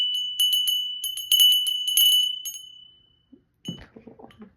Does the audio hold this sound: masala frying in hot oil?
no